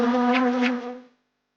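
Honeybee buzzing as it flies to a lotus flower: a steady, close, moderately loud hum about a second long that cuts off abruptly, heard alone.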